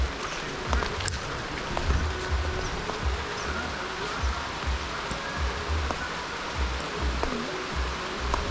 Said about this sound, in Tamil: மழை பிடிக்க ஆரம்பிச்சிச்சு, செம மழை பெய்யுதுங்க.